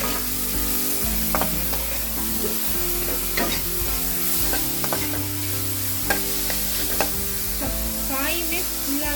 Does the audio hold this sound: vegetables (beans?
yes